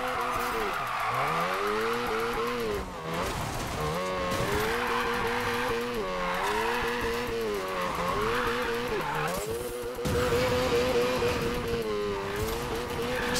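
Car drifting in the Need for Speed video game, engine revving high and wavering as tires squeal continuously through long slides, loud and close, with brief dips where the throttle lifts before surging again.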